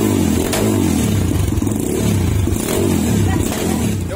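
A motorcycle fitted with a Radamel Racing aftermarket exhaust idles loud and close with a rough, throbbing pulse, its burbling note rising slightly in short revs while people nearby speak faintly.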